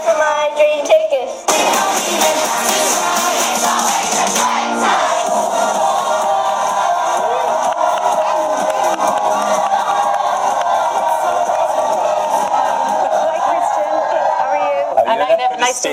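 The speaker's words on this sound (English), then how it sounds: "And I think they deserve a round of applause." A crowd cheers and claps for a young aspiring chef meeting a celebrity chef, a loud, sustained roar of cheering and applause filling the whole stretch, with voices shouting throughout.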